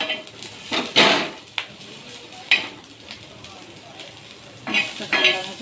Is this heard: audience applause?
no